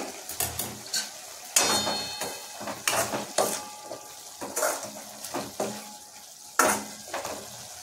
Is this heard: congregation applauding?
no